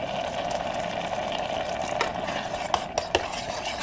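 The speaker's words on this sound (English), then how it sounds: "So all I'm doing is adding it in and stirring it around" A cornstarch slurry is stirred into eggplant curry in an electric stainless steel multi cooking pot, a steady wet churning hiss with a few crisp spoon clicks against the metal near the end.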